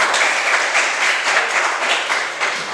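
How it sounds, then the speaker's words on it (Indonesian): A class of schoolchildren claps hands together in a loud, continuous burst with a rapid, slightly uneven rhythm, close and filling the room, with no talk over it. "Tepuk tangan."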